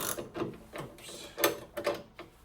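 A very old socket set ratchet is turned during a rear door gas strut fitting, giving several short bursts of close ratcheting clicks with brief pauses between them.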